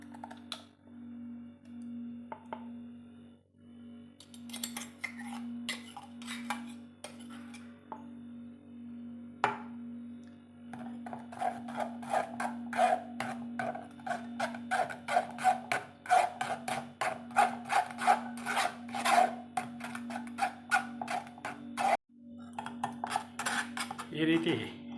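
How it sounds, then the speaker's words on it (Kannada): Ground pineapple is strained to press out its juice, giving irregular metallic scraping and rubbing like a spoon against a sieve, faint and close, over a steady low hum, mostly without speech. "ಈ ರೀತಿ ಚೆನ್ನಾಗಿ ಪೈನಾಪಲ್ ಜ್ಯೂಸ್ ತೆಗಿಬೇಕು."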